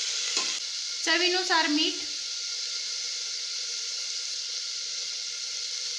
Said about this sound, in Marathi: आता आपल्याला त्याच्यात टोमॅटो टाकायचंय। कोथिंबीर पण टाकते लगेच। हे परतून घ्यायचं।